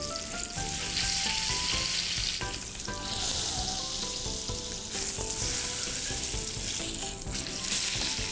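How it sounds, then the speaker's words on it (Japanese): Beef for roast beef sears loudly and steadily in a hot pan, a continuous bright sizzle with occasional crackles, close and without speech, with some background music. "早速お肉を焼いていきます"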